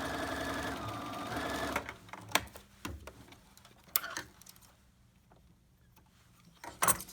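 A sewing machine stitches a side seam with a fast, close whirring run that stops, followed by a few sharp clicks and taps as the stitching pauses.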